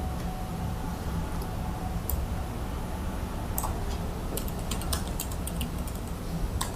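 Typing a command on a computer keyboard into an SSH session on an Ubuntu server, a run of light clicking keystrokes over steady background hum, growing denser toward the end, with no talking.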